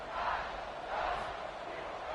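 Stadium crowd roaring in a college football video game, a sustained dense wash of cheering voices at moderate distance, swelling slightly and holding steady throughout.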